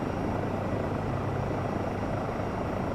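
Helicopter in Microsoft Flight Simulator 2024 hovering toward a landing, a steady dense low rotor and engine rumble filling the sound evenly throughout, with no talking.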